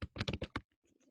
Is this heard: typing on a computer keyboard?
yes